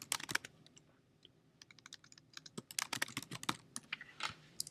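Someone typing a comment on a computer keyboard, giving close, crisp key clicks in quick irregular bursts with short pauses between them, fairly quiet and with no voice present.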